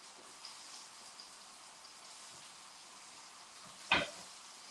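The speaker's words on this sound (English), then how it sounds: "you can see that this is frying away now." Floured jackfruit bites fry in a pan with a faint, steady sizzle throughout, and a single brief clatter comes near the end.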